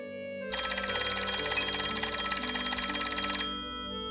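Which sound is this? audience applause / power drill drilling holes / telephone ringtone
telephone ringtone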